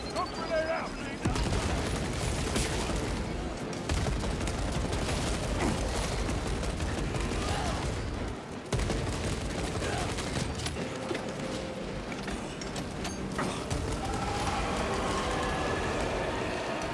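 Rapid bursts of automatic gunfire rattle almost continuously in Warhammer 40k Space Marine 2, with brief gaps between volleys and a player talking faintly underneath.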